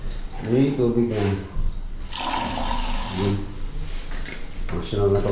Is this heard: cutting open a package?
no